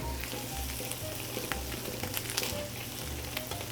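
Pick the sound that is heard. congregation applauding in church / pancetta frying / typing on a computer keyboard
pancetta frying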